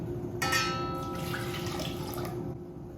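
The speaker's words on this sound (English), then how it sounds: "1 cup of water, hot water." Hot water is poured from a cup into a bowl with salt while making spicy Sichuan pork noodles, a short splashing pour that starts sharply and then settles into a gentle trickle.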